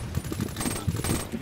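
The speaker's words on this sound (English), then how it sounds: "I'm using a shotgun with a..." Rapid bursts of shotgun fire in a competitive shooter game, several sharp overlapping blasts packed into a second and a half, close and punchy with no talk.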